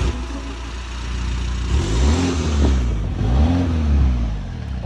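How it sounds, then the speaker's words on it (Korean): Exhaust of a BMW X3 30e hybrid SUV, heard close up: a steady low idle rises into two distinct rev swells, each climbing and falling smoothly with a deep, mid-low tone and no talking. "지금 배기 소리 좋네"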